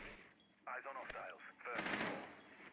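Gunfire in the video game Rainbow Six Siege sounds as quiet bursts of rapid shots with sharp crackling impacts, mixed with voices speaking.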